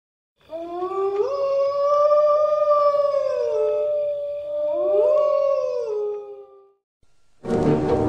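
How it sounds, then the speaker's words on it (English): A werewolf howling in the horror film The Howling: two long, rising and falling wails, loud and close and alone, with a short burst of harsh noise at the end. "Every night I've been hearing this howling."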